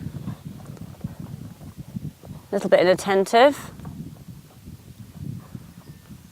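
Horse hooves clip-clop briefly through a dressage transition between trot and canter, a short burst of rhythmic footfalls in the middle under near-constant instructional talk, with light wind noise outdoors.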